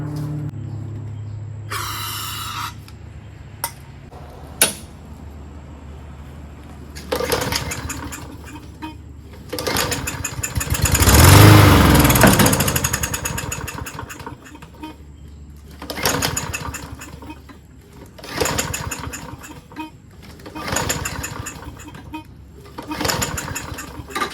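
Lawnboy push lawnmower repeatedly cranked by pull cord, engine sputtering in loud bursts that briefly catch and roar then die, with quiet gaps and clicks between attempts.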